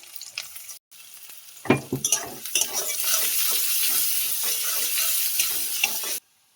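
Chopped onion and crushed garlic hit hot oil in a pan for a taro-leaf dish with hog plum. A few clatters come first, then a loud sizzle swells and holds steady until it cuts off abruptly.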